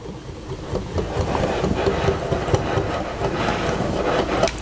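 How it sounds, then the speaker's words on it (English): A whisk stirs dry flour, baking soda, baking powder and salt in a bowl, making a soft, steady scraping and rubbing sound close by with no voices. "Give that a whisk."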